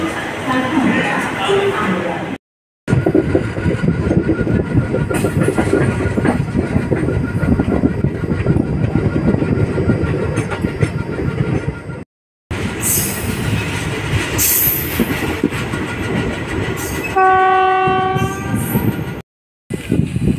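An Indian express passenger train on the Hubli to New Delhi route rumbles steadily with rattling carriages and squealing wheels, a horn-like tone sounding near the end, with voices faintly in the background.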